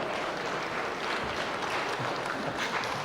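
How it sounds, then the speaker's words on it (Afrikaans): A church congregation claps together at a Sunday service, dense and steady applause filling the room throughout. "kom ons gee hom 'n lekker hande klap"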